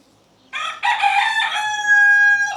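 A rooster in the Philippines crows once, a loud, close, drawn-out call that rises into a long sustained final note over a quiet background.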